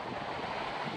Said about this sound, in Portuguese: Ai, mas o vento tá ardido hoje.